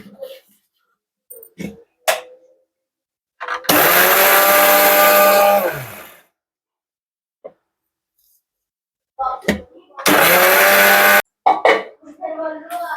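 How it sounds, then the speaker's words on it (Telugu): A mixer grinder grinds sugar in two loud whirring bursts of about two and a half and one second, with scattered clatter and brief talk in the quiet between them. "చక్కెర మిక్సీకి వేస్తాం."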